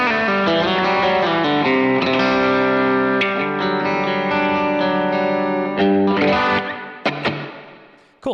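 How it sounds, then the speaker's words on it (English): An electric guitar played through a basic reverb pedal, sustained chords and picked notes ringing with a wide, big-sounding tail, a clear and continuous performance that ends with a few sharp plucks and a brief cut-off. "my last always on is going to be kind of just a basic reverb, but it sounds kind of big by itself"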